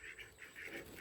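Several ducks on a farm quack in short repeated bursts at close range, a steady series of nasal calls with no talking.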